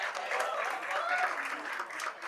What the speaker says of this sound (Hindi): I better round of applause ladies and gentleman.